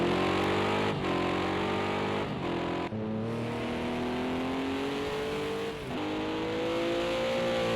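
Race cars in a sim racing teams endurance race, with a steady loud engine drone whose pitch climbs through the gears and dips briefly at shifts, sustained throughout without talk.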